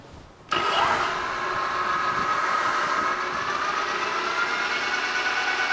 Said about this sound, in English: We'll stop it, hit the brake, change gears again to high to low.